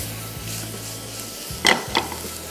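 Garlic fries in hot oil with a steady low sizzle, while a utensil stirs and scrapes the pan twice near the end.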